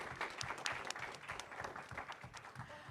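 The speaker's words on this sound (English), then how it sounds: "Give them a round of applause." Applause from a science quiz competition audience after the first round of the finals, steady and fairly faint, with individual claps audible through a soft, continuous wash.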